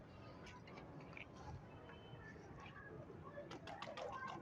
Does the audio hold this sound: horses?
no